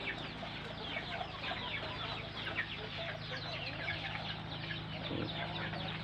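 A flock of backyard chickens, jittery and startled, clucks continuously in a dense overlapping chorus, close and steady throughout.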